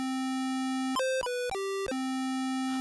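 A harsh electronic buzzing tone from the Hercules video game sounds at dialogue, a sustained note that jumps through several short stepped pitches before returning to the starting note.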